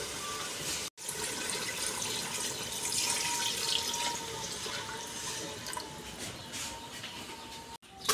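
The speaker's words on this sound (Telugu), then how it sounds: "ఇప్పుడు వాటర్ వేసుకుంటాను." Water pours steadily into a pan of marinated fish for an India-style fish curry, a continuous close splashing rush lasting several seconds with brief cuts at start and end.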